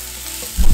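Onion and garlic frying in olive oil make a soft hiss, then a brief loud rustling clatter as they are stirred, close up and with nobody speaking.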